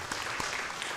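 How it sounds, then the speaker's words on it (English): Applause from a workshop audience at a women's economic opportunities program in East Africa, a steady, dense wash of clapping at moderate distance, fairly faint throughout the short burst. "Can we give another round of applause?"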